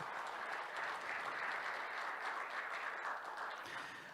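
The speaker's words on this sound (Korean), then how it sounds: "다시 한번 박수 부탁드리겠습니다" Audience applause at the opening ceremony of an academic society's winter conference, a steady, dense wash of clapping that holds evenly for about four seconds before easing slightly at the end.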